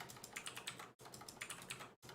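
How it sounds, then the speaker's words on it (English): Rapid, clattering keystrokes on an exceptionally loud mechanical keyboard, close and steady with brief pauses between bursts and no talking. "the keyboard that I have here, that you guys are listening to right now, is apparently one of the fucking loudest keyboards in existence"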